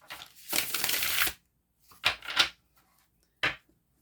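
Tarot cards being shuffled in a few short bursts: one longer riffle, then two quick shuffles and a brief final snap, close up and quiet.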